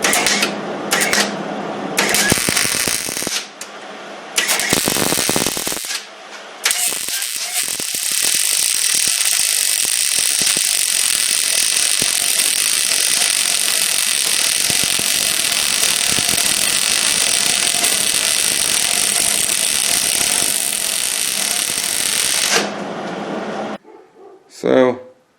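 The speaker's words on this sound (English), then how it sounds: "So let's weld this up and see what we got." A Hobart 140 wire-feed welder lays a bead on 1/8 inch metal, producing a long continuous crackling hiss after a few short starts and stops, with brief talk at the beginning.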